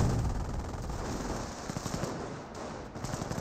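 Autocannon fire in Company of Heroes 1 plays as rapid, evenly spaced bursts of shots over dense battlefield rumble, loud and continuous, with a quicker volley rattling toward the end and no voices.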